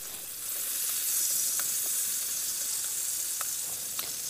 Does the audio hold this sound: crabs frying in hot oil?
yes